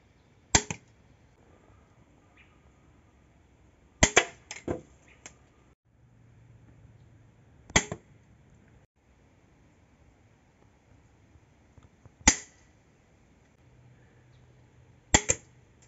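An 80 lb mini crossbow fires in a series of sharp, isolated snaps, several separate shots spaced seconds apart with quiet pauses and faint handling noises between.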